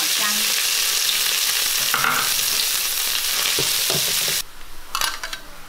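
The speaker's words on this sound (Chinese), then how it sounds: "接着把切碎的香菇跟虾米炒香" Chopped shiitake mushrooms and dried shrimp are stir-fried in a wok with a loud, steady sizzle and scraping stirs. The frying drops off abruptly near the end, leaving a few clattering spatula knocks.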